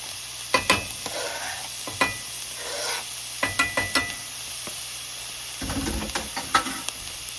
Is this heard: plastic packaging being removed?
no